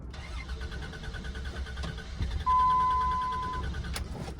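A Ram truck engine cranks repeatedly with a rhythmic starter whir, briefly catching once before failing to start, followed by a steady electronic tone, all near and without speech.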